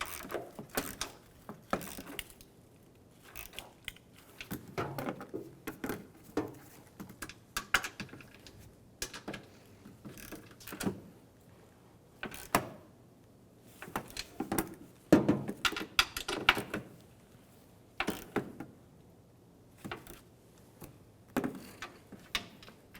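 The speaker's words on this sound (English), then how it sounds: "Using a 15mm socket, snug down the nuts." A ratchet on a 15mm socket snugging down strut nuts on a 2003-2008 Honda Pilot front strut and spring assembly, bursts of quick clicking in irregular runs with pauses, close up and with no talk.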